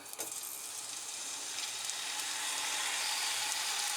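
Meat skewers with rosemary, coated in olive oil, sizzle in a wide pan over maximum heat. The frying starts with a sharp hiss and swells into a steady, close crackle.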